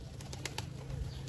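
Soft pigeon cooing at a distance over a low steady background hum, with a few faint higher chirps.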